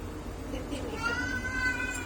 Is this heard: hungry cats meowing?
yes